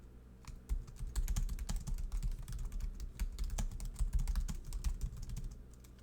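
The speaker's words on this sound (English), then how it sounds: "And now I'll type in the README file." Steady, rapid typing on a computer keyboard while a README file is written, a dense run of close, moderately loud key clicks with no talking.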